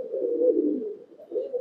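An imported high flyer pigeon, restless in its loft, gives a soft, low coo in two brief phrases separated by a short pause, close and alone.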